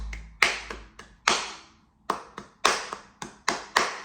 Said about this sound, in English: So the song starts with the claps